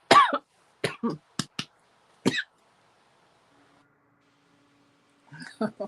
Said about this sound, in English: Oh no. She's coughing.